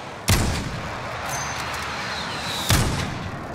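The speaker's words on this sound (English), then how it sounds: "friendly precision airstrike inbound" Precision airstrike explosions in Call of Duty: Warzone, two sharp, heavy blasts a couple of seconds apart, each followed by a rumbling decay over a constant background of battle noise.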